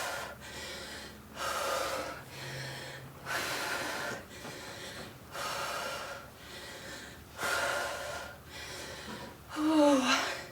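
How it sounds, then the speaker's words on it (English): Heavy, rhythmic breathing during a HIIT cardio and strength workout, with repeated loud inhales and forceful exhales roughly every second, close and strained, growing harsher toward the end. "Inhale on the way down, exhale on the way back up"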